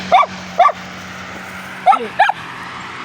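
Several dogs bark in greeting at a rural home, five short sharp barks spaced irregularly over a faint steady hum, fairly close and loud.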